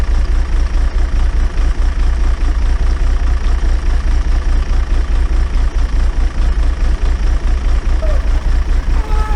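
An engine idles loudly and close by, a steady low rumble that throbs evenly the whole time with no talking.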